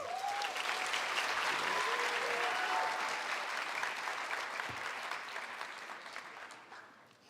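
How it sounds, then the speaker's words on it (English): A crowd applauds to honor a teacher at a school district honors night, steady and dense clapping that fades toward the end, with a few faint voices mixed in. "let's give a round of applause to the realest teacher out here"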